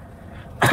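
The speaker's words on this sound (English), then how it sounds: "After I eat, I cough more." A single short, loud cough bursts out near the end after a stretch of quiet room noise.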